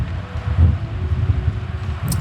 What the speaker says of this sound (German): Der Wind von hinten mit 45 Stundenkilometern.